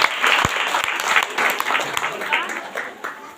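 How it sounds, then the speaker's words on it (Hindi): A Sunday prayer meeting congregation breaks into sustained, loud clapping of thanks, many hands at once in a steady roar with voices calling out beneath it. "इसलिए जोरदार ताली से प्रभु धन्यवाद"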